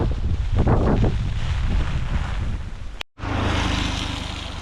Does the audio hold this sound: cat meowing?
no